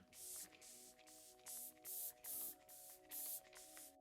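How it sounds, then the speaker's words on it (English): Hourglass setting spray misted from a pump bottle in a run of about eight short, close, soft hisses, evenly spaced with small gaps between them. "For setting spray, I'm gonna use this brand new setting spray by Hourglass"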